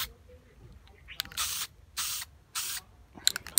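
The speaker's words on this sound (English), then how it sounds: "just sprayed some there before" An aerosol spray paint can hisses onto a car's lip spoiler in three short bursts of about half a second each, close to the microphone and spaced by quiet pauses.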